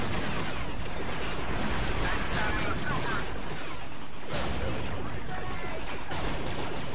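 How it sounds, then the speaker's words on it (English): Chaotic battle din in Star Wars Battlefront 2 on the Dantooine map, loud steady blaster fire and booms with a heavier blast like a grenade explosion mixed in, near and continuous. "might have been a grenade over there"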